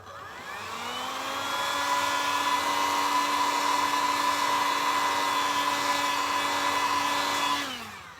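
A handheld heat gun blows hot air over a decorated outlet switch cover, a steady whirring blast that rises at switch-on, holds evenly for several seconds, then winds down, with no talk over it.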